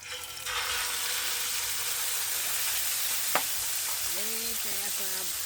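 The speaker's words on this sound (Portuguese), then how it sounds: "Então primeiro a gente vai dourar o camarão." Shrimp browning in a pan outdoors, giving a steady broadband sizzle that runs through the whole stretch, with a sharp click near the middle and brief faint voice-like tones toward the end.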